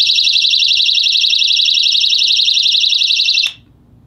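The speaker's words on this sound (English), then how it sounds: "So as you can hear, it's a very loud personal alarm" Lipstick-shaped personal alarm blaring a piercing, rapidly warbling electronic siren, very loud and close, running continuously before cutting off abruptly near the end.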